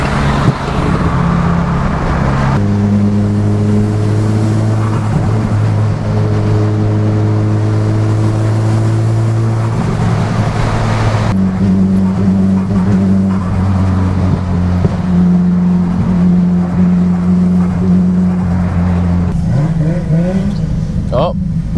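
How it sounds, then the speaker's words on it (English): A Honda DC5 car accelerates hard nearby during a Friday night cruise, heard from inside a Nissan Silvia S15: loud engine drone climbing through two long pulls with a gear change between them, with people talking over it. "Hey, there's a DC5 gunning it."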